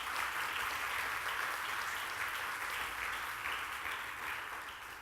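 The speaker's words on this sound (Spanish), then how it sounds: "Denle un aplauso al Señor entonces." A church congregation claps together in a sustained round of applause that holds steady and then tapers off toward the end, fairly distant and even.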